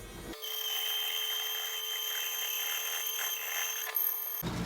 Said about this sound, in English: the next step is everybody's favorite, sanding.